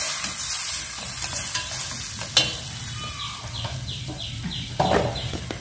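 Tomatoes go into a hot frying pot while cooking amaranth soup, and sizzling and scraping stir sounds follow close up with a few sharp clinks. There are no voices.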